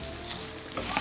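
Fideuà noodles toasting in a pan over medium heat, sizzling with a dense, close crackle while being stirred.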